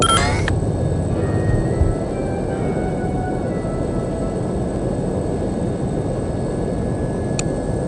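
Airliner cabin in flight to London in the game No One Lives Forever, a loud, steady broadband engine roar that continues without a break.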